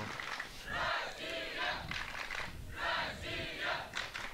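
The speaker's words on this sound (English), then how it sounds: "now you can hear some of the fans are cheering up their fellow teammates" Spectators at the 2018 European Youth Cup archery event in Patras chant in unison to cheer on teammates, rising and falling in rhythmic group shouts at a moderate distance.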